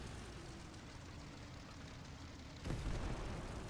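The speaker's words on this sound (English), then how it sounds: "You can hear the artillery at the moment" Distant artillery fire in the tank game War Thunder, a muffled low boom landing over a steady rumbling battlefield ambience, faint overall and heard alone.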